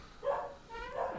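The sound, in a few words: dog barking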